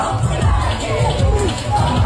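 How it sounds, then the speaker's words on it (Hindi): A crowd of political party supporters gathered outside a house in the evening after an election, producing a steady, fairly loud hubbub of many voices with scattered shouts. "देख सकते हैं आप यहाँ शंभू पासवान के घर के पास इतना भीड़ शाम हो रखा है"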